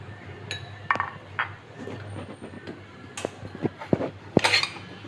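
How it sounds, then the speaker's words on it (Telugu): Metal idli plate handled and greased with oil in a home kitchen while making Kerala idiyappam, giving scattered light clinks and taps of metal cookware against a low steady background hum, no voices. "ఇది ఇప్పుడు ఇడ్లీ ప్లేట్ తీసుకుని దానికి కొద్దిగా ఆయిల్ గ్రిల్ చేసుకుని పెట్టుకోవాలి"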